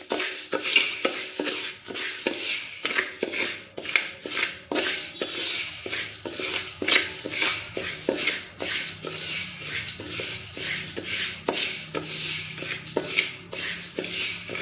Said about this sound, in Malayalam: അതിലേക്ക് പരിപ്പ് ഇട്ട് കൊടുക്കാം. കരിഞ്ഞു പോവാതെ വറുത്തെടുക്കണം കേട്ടോ. ഇതൊന്ന് വറുത്തെടുക്കാം.